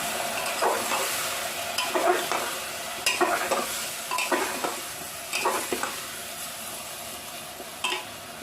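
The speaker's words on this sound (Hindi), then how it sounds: "अब इसको मैं फ्राई करूंगी" Jackfruit and green chilies fry in a pan while a spoon stirs and scrapes in repeated strokes over a soft, steady sizzle, with no talking.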